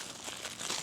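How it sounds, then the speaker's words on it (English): A small Insta360 camera carrying bag being handled close up, giving a brief continuous soft crinkling and rustling. "This is gonna be the carrying case for it."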